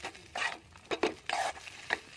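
Fried coconut, whole peanuts and chopped chili being stirred in a pan, a series of short scraping, rustling strokes in an uneven rhythm, close and fairly quiet, with no talk.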